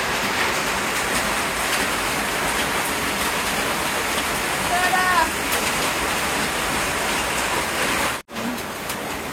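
Steady rain falls at night in a Bangladeshi village, a dense, even hiss of drops filling the whole stretch, with a brief dropout near the end.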